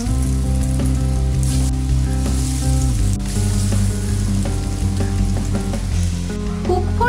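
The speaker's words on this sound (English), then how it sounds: "Once the oil is enough hot, then add egg chop one by one." Egg chops crackle and sizzle steadily in hot oil in a skillet over medium flame, a continuous frying hiss, with a low droning tone underneath.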